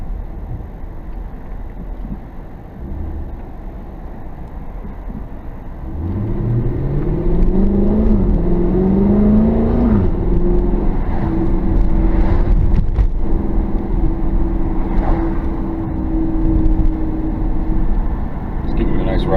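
A 2016 Dodge Challenger rumbles along on a ride-along. The cabin drone swells into a steady, louder engine hum with a rising whine partway through, and some talk is mixed in.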